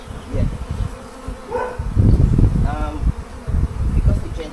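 Honeybees drone steadily around a backyard Flow Hive during an inspection, a close, continuous buzz with bees passing near, while people talk over it.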